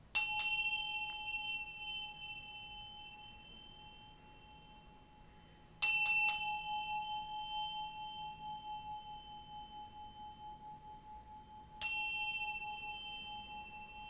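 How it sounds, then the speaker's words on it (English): A single small bell struck three times at even intervals, each bright ring sustaining and slowly fading before the next, clear and close with no talking. "I'm going to ring this bell here to bring in some good vibes"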